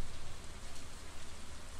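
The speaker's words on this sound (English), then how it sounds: "how come the rain isn't filling up" Steady rain in Stardew Valley patters softly and continuously, a quiet, even hiss of falling drops with no voices.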